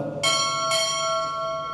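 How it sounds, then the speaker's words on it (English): Two crisp strokes of a ship's bell, about half a second apart, ring out at a U.S. Navy chief pinning ceremony, each leaving a shimmering, slowly fading tone in a quiet room. "Time order to strike two bells."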